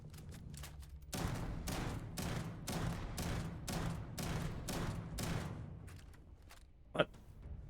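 Shotgun blasts in Starfield fire in a steady series of about nine heavy booming shots, evenly spaced, followed by a lone sharp impact near the end.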